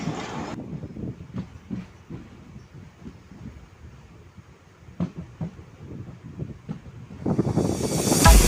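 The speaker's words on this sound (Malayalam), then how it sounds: "അപ്പോൾ നമ്മുടെ വണ്ടി മുളന്തുരുത്തി എത്തിക്കൊണ്ടിരിക്കുക, മുളന്തുരുത്തി റെയിൽവേ സ്റ്റേഷൻ" A passenger train running from Ernakulam toward Kottayam, approaching Mulanthuruthy railway station in Kerala, rumbles steadily with intermittent clicks and thumps of wheels over rail joints, swelling louder near the end with rushing wind noise.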